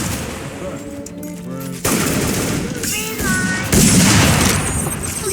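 Several sharp video-game gunshots ring out in Roblox, a couple of loud cracks spaced a second or two apart, with a voice talking during the gaps.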